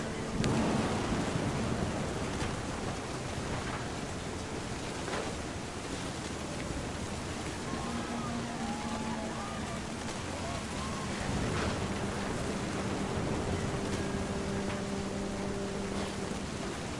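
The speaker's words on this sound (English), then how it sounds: "The thunder sounded much too close and full of angry power." Thunderstorm with steady heavy rain in the video game What Remains of Edith Finch, a dense continuous downpour with low rumbling thunder swelling in the background; a faint tonal hum and brief melodic traces sit under the storm.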